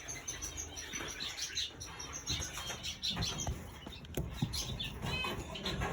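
A pet bird, in poor condition and about to have its nails trimmed, chirps in a quick run of small tweets over a busy, rustling background.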